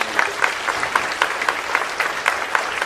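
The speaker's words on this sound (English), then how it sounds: "a final round of applause for us" Symposium audience applauding at a humanities event, a moderate crowd clapping with distinct individual claps popping out of a steady patter, heard on its own.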